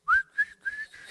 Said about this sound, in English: I just start whistling the tune